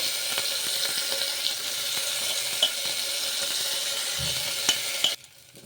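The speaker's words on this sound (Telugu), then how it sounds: "ఇప్పుడు ఇవి కొంచెం కలర్ చేంజ్ అయ్యే వరకు వేయించుకోవాలి" Moong dal frying in ghee inside a cooker gives a steady, close sizzle with faint crackles and occasional scraping stirs, ending abruptly as the frying noise drops away near the close.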